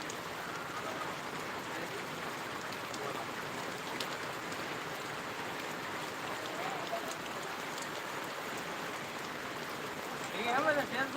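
Rain falls steadily on a farm during a heavy downpour, with a soft, even hiss of drops continuing throughout and a brief louder splash or rustle near the end.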